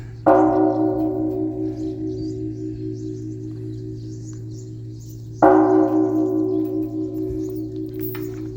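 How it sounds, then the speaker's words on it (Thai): A large Thai temple bell is struck twice, several seconds apart; each deep, resonant strike rings on with a long, slowly fading hum. "ระฆังสวรรค์ของเมืองศรีหานคร"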